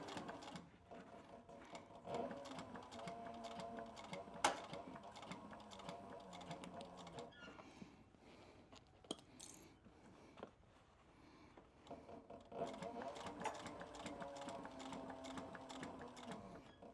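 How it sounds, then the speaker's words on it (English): A sewing machine stitches a seam in a leather duffel bag, running in a quiet, rapid mechanical rhythm in bursts, pausing around the middle, then resuming its steady clatter. "I'm sewing it about 1/8 of an inch from the edge of my skive"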